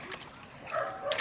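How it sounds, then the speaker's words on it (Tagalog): A family dog barks at a house construction site on an upper floor beside a finished concrete slab, a few short close woofs over steady background noise. "Ang aso naming engineer, nandito din sa taas."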